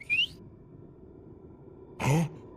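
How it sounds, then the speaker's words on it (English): A person gives two short, soft whistles: a brief rising one at the start, then a louder, lower burst near the end, with quiet pause between and no talking. "I just want to put out a little whistle"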